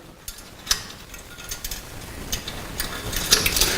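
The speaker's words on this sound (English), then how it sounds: "As soon as they're connected through, we can actually put the R pins back in." Metal R pins and band sections of an air-powered ATEX pneumatic universal drum rotator clink and ratchet in scattered, sharp clicks and taps, fairly close, with faint mechanical rattles between them.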